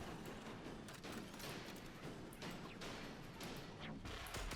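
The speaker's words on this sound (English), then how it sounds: "Oh, you're shooting at me." Enemy gunfire in the Warframe space-mission game: a dense, continuous spray of shots and impacts with sharp bursts and crashes running throughout, fairly loud with no clear gaps.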